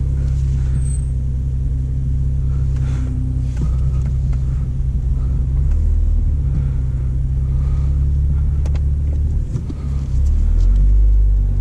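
A stage 2 BMW M240i with M Performance exhaust and downpipe, driven in normal mode, gives a steady loud low rumble of road and engine noise from inside the cabin, continuous throughout with a slight swell near the end.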